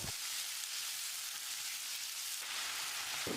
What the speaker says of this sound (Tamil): 1 டீஸ்பூன் உப்பையும் சேர்த்து தக்காளியை மசிகிற அளவுக்கு வதக்கிடலாம்